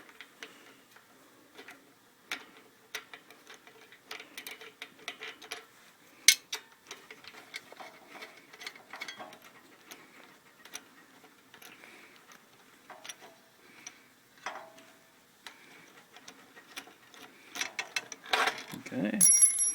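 Small socket wrench backing out carburetor studs on a propane-converted generator, a quiet, close series of light ticking clicks and metallic taps with faint handling noise.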